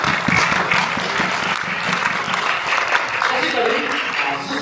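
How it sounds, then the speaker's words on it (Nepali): Guests at a sister's engagement ceremony break into loud, continuous applause that fills the room, with voices mixed in beneath the clapping. "ताली बजाउन हामी।"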